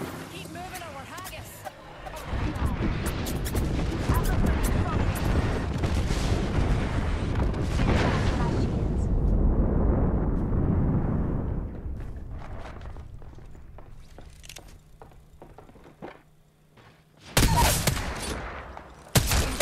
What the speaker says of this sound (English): They're bombs.